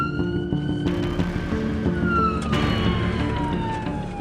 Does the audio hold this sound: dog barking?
no